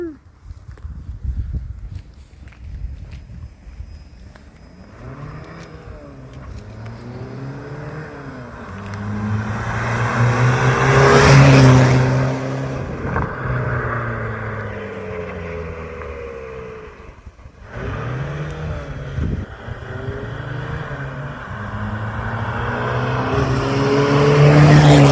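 A stage 2 tuned Volkswagen Passat with over 300,000 km revs hard close by, its engine note climbing and falling in repeated pulls, peaking mid-way, with voices talking over it.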